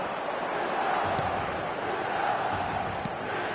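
A packed stadium crowd roars in a football video game on PlayStation, a dense, steady wall of cheering and chanting at even volume throughout.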